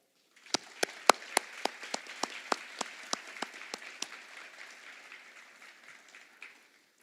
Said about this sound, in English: So everyone, round of applause for Brother Tom first, and then Father Allen.